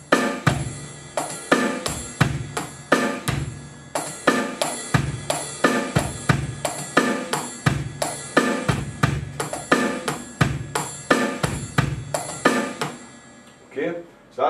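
Rock drum kit groove with eighth notes played on the right cymbal and offbeat accents, a repeating pattern of kick, snare and cymbal hits that is loud and close, ending in a brief pause.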